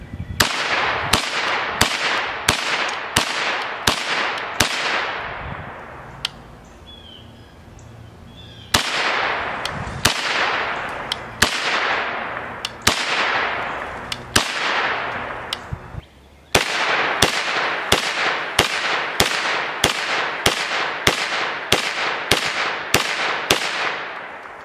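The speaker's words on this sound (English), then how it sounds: "Now we want to shoot some jacketed hollow point defense ammunition through it just to make sure it'll function." A Henry Homesteader 9mm carbine fires Fiocchi Extrema 124 grain XTP jacketed hollow points in long strings of loud, sharp reports with ringing decay, a few spaced shots mixed with quicker bursts and brief pauses between strings.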